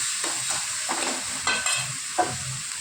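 Two or three green chillies sauté in a pan for a Tamil mushroom gravy, a steady close sizzle broken by a few soft scraping stirs and brief crackling bursts, with no talking.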